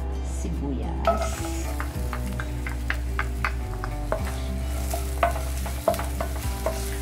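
Onion sautéing in a little oil on a rainy morning, a soft continuous sizzle broken by frequent sharp clicks and scrapes of a spatula stirring against the pan, with a low steady hum underneath and no talking.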